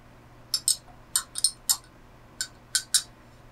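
Metal spoon clinking against a glass while stirring vinegar into water, a series of about ten bright, close taps in irregular pairs and clusters over a quiet room, with no talk.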